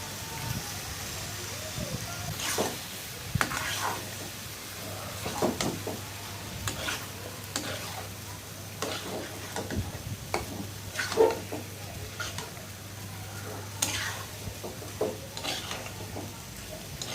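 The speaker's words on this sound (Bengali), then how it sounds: "আমি ভালো করে নাড়াচাড়া দিয়ে দিচ্ছি বন্ধুরা" Beef tripe is stirred and fried in a pan, a low continuous sizzle broken by repeated scraping strokes of a spatula at an irregular pace, close but fairly quiet, with no clear talk.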